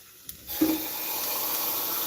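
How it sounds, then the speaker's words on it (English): Water pours into a pot of stuffed peppers, starting after a brief clink and then running as a steady rushing hiss that holds to the end. "We're gonna add a little bit of water."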